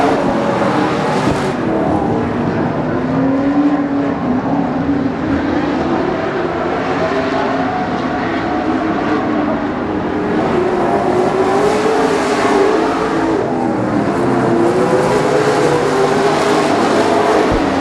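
Race cars roar continuously around a track, a loud layered engine drone with pitch sweeps as cars pass and shift, sustained without pause.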